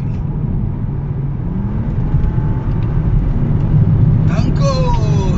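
A car's engine rumbles steadily and builds while it overtakes on a highway, with road and wind noise throughout and a rising whine near the end; someone talks over it.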